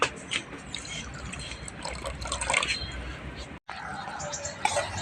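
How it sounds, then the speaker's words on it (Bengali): Water is poured into a karahi of sugar on the stove to make syrup, a soft close trickle and splash running under low background noise, broken by a brief cut. "দিয়ে দেবো অল্প পরিমাণ পানি।"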